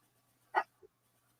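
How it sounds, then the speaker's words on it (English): A single short dog bark, sharp and close, followed by a faint brief second sound in an otherwise quiet room. "that was my dog"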